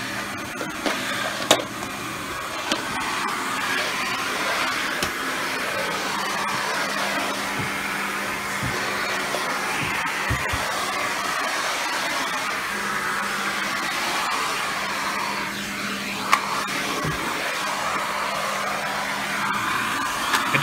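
A Rainbow D3c canister vacuum cleaner runs steadily on carpet, its constant whirring motor drone holding at an even level for the whole stretch, with a few faint bumps from the head gliding across the pile.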